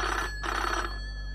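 A telephone rings in two loud, close bursts of electronic trilling separated by a short pause, with a steady low hum beneath.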